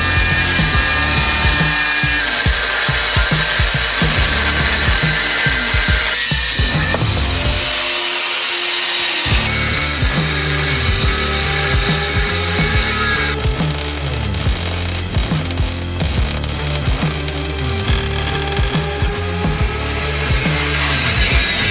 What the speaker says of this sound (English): We've just got to get the front cage pad mounts ground down